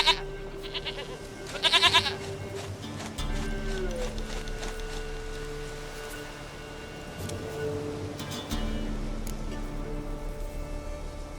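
A goat in The Witcher 3 bleats loudly in a few harmonic cries near the start, then settles into steady game ambience with low droning tones and background music.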